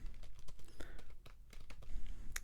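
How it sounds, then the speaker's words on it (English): Keys on a computer keyboard tapped out in a quick, irregular run of soft clicks, close and fairly quiet, with no talking. "And then type in your message"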